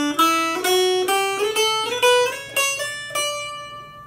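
Chromatic mountain dulcimer playing a rising major scale, about eight evenly spaced plucked notes climbing step by step, each ringing briefly, close and clear, with the last note left to decay.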